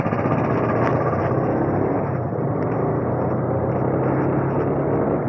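A TVS Apache RTR 180 motorcycle engine runs steadily while being ridden, a constant loud broadband drone with road and wind noise and no speech over it.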